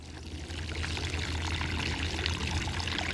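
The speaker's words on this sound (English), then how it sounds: "really water it in well" Water pours steadily onto a newly planted pepper plant in a garden bed, a continuous close, rushing stream for several seconds.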